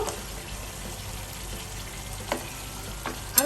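Sliced moringa drumsticks go into a simmering home-style nola fish curry, with a steady bubbling sizzle from the pot and a few sharp clinks and splashes near the end.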